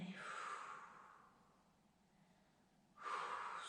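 Forceful breaths pushed out through the mouth during a stretching exercise, two close, breathy rushes of air separated by a short pause, the second starting sharply.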